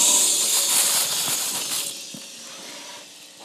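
Children blowing a breathy 'shh' to imitate wind, a bright, hissing rush that is loud at first and then fades to a softer hiss, a group of voices mimicking the wind.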